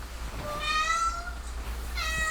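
A pet cat meows twice indoors, a clear, fairly close, drawn-out meow followed by a shorter one, over a low steady background hum.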